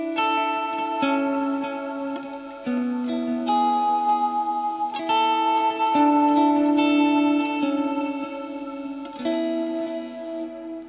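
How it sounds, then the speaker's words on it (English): Lightly overdriven electric guitar plays slow chords that swell and sustain into a lush reverb and echo tail from a Strymon BigSky on its bloom setting, loud and continuous with no talking. "This is the bloom setting on the Big Sky."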